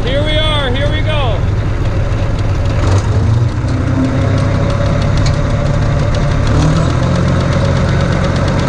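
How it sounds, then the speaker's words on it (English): A tractor engine revs up to raise PTO speed and holds a loud, steady drone for several seconds, heavy low rumble throughout, with a brief whine near the start. "So I'm gonna rev the engine to increase the PTO speed."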